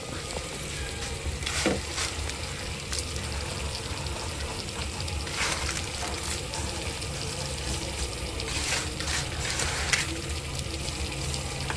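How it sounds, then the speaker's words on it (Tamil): Milk at a rolling boil for payasam, a dense continuous bubbling and sizzling hiss with scattered pops and a few utensil clinks, close and steady throughout, no talking. "பால் கொதிச்சுட்டு இருக்குது"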